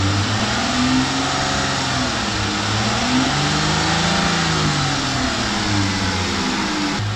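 Dodge Charger (2011–2021 model range) fitted with a K&N cold air intake, engine revving up and down in steady swells, loud and close, with no talking.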